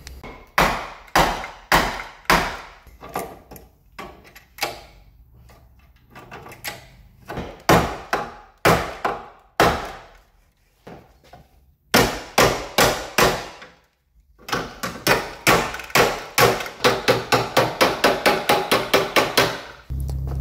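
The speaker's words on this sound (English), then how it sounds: "A lump hammer will get it back into the position I need" Lump hammer beating a crash-damaged BMW E36 body panel back into shape, dozens of loud, close metallic whacks in uneven bursts, some slow and spaced, ending in a fast rapid run of blows.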